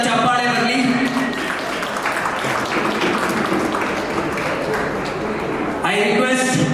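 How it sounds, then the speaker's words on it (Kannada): Applause from an audience at a Karnataka state award ceremony: a dense, steady wash of many hands clapping for several seconds, with a voice on the sound system at the start and end. "ನಿಮ್ಮೆಲ್ಲರ ಜೋರಾದ ಚಪ್ಪಾಳೆ ಬರಲಿ."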